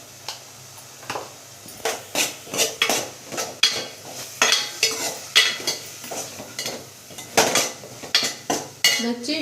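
A spoon scrapes and clinks against a pan as ginger paste is stirred and fried for egg masala curry. The bursts are repeated and irregular, close and fairly loud, with a faint sizzle under them and no talking.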